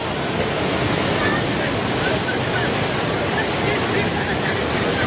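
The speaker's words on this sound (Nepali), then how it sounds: "हेर्नुहोस् त त्यहाँ छाल ल" Floodwaters of the swollen Trishuli river rushing past a submerged bazaar, a loud, continuous broadband roar of surging waves with wind buffeting the microphone and no pauses throughout.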